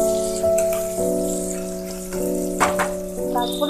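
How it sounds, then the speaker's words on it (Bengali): Vegetables sizzle lightly in a pan seasoned with salt and turmeric, a soft steady crackle beneath a sustained tonal hum, with occasional clinks and no speech. "আমি এগুলো হালকা ভেজে নিচ্ছি কেমন। দেখো একটু নুন আর হলুদ দিয়ে দিলাম"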